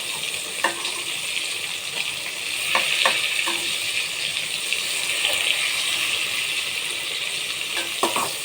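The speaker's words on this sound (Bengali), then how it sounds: "আমি হালকা করে বেগুনগুলো ভেজে নেব" Eggplant pieces fry lightly in oil for an ilish fish dish, giving a steady, dense sizzle throughout with occasional clicks and taps of stirring in the pan.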